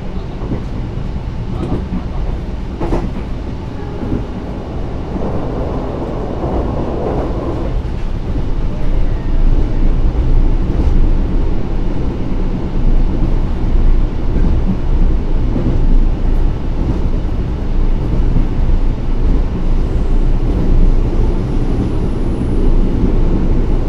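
An extra Taksaka Panoramic passenger train runs through the Notok tunnel, a steady loud rumble and roar of wheels and enclosed air that swells and holds for over twenty seconds with no voices.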